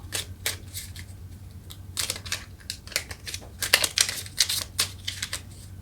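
Tarot cards are shuffled in quick, crisp riffling bursts, close and fairly quiet, coming in irregular clusters with short pauses between.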